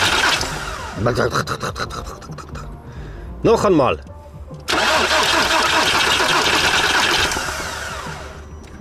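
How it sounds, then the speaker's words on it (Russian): A hard-starting pickup truck's engine being cranked with the starter after failed attempts, rhythmic whirring turnover that catches and settles into a loud, steady running roar, with someone speaking briefly. "А двигатель запускаю."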